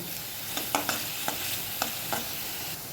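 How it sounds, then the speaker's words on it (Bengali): Onion, ginger, garlic and spices fry in oil for Mughlai chicken, a steady close sizzle broken by several sharp scrapes of a spoon stirring the pan. "সমস্ত মশলাগুলোকে একটু ভালো করে ভেজে নেব যাতে এই কাঁচা গন্ধগুলো পেঁয়াজ আদা রসুনের কাঁচা গন্ধগুলো চলে যায়"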